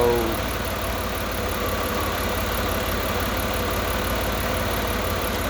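A rebuilt car engine idles steadily at close range, a continuous even rumble with a faint regular ticking running through it for the whole stretch, with no talk over it.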